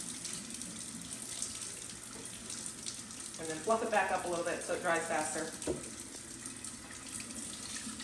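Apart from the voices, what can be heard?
tap water running over vacuum mop roller while rinsing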